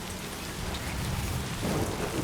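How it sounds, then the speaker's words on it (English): A rainstorm in the video game Death Stranding 2 pours steadily while a low thunder rumble swells near the end, with no talking. "getting ruined out in the rain."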